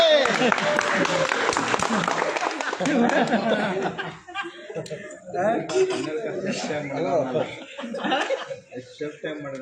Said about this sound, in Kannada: ಎಲ್ಲ ಚಪ್ಪಾಳೆ